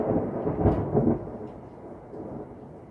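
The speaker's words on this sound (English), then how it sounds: "I'm sure you can hear that thunder right now" Thunder rumbles during a storm, a deep rolling boom with two swells early on, then a long fading grumble, fairly loud and alone.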